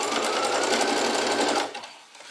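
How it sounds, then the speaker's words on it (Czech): A domestic sewing machine stitches zigzag along a double-folded hem of a cosmetic tissue cover, a close, steady, fast mechanical whir that runs for about a second and a half before stopping. "Šití tím cikcakem pomůže hlavně začátečníkům"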